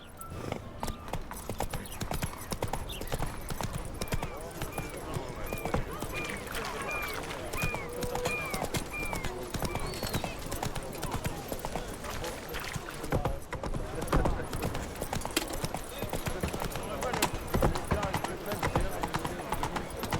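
Geralt's horse Roach gallops in The Witcher 3: Wild Hunt, a rapid continuous clatter of hooves close and steady under background game talk and music.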